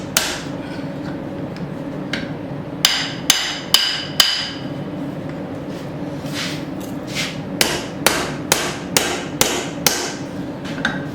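A hammer strikes hot steel while forging a short body tomahawk over a drift, ringing blows landing in quick bursts with short pauses between, loud and close.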